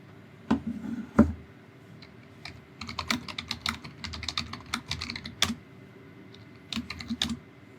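Keys clack on a computer keyboard in short bursts, quick clustered taps with brief pauses between them, close and fairly quiet, with nothing else heard.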